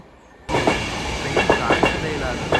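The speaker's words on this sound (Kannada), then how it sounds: "ಈಗ ಒಂದು ಟ್ರೈನು ಬರ್ತಾ ಇದೆ ನೋಡೋಣ ಇರಿ" A train passes close to a railway station in London, its rumble and rhythmic clickety-clack of wheels rising abruptly and staying steady and loud.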